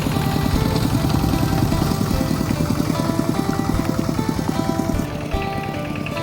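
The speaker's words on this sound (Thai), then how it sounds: "อันนี้เพื่อเอารถไถออกมาขับเอารถจักรพี่น้อง" A tractor engine runs in a flooded rice field, giving a loud, steady, close chugging with a fast regular pulse throughout and a brief dip near the end.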